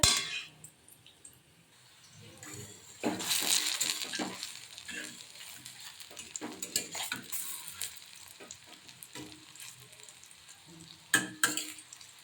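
Cabbage and cauliflower Manchurian balls fry in oil mixed with a little butter, a soft crackle running beneath repeated metal clangs and scrapes of a spatula turning them in the pan, with a couple of sharper knocks near the end.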